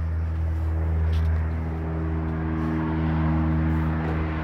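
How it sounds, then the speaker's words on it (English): Light evening traffic at the five o'clock hour, heard from a double porch of a residential unit: a steady low rumble of passing vehicles, moderately loud and continuous, with no talking. "so you will hear a little traffic."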